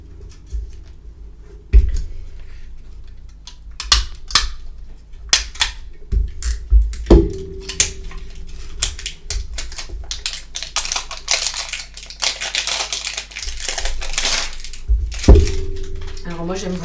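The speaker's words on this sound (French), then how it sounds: "On va enlever le papier." Paper wrapping is torn and peeled off a box of Deckstiny cards, with repeated crisp crinkling and ripping bursts plus a few sharp knocks, close and fairly loud over a quiet room.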